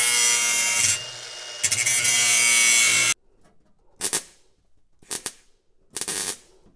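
Steel floor pan panel on a car being trimmed with a power cutting tool: a loud, continuous harsh grinding cut for about three seconds, then three short, sharp bursts of cutting separated by near silence.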